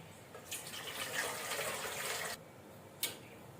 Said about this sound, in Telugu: ఇప్పుడు ఇడ్లీ గిన్నెలో వాటర్ పోసుకోవాలి